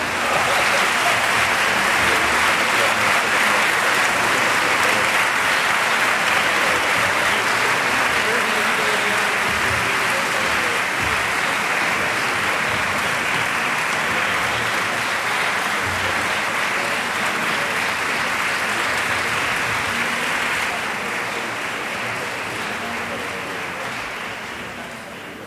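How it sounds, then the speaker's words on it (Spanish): A large audience gives a strong, sustained round of applause for charity award winners at a ceremony. The clapping stays full and loud for a long stretch, then slowly fades toward the end. "Ese fuerte aplauso de nuevo para ellos"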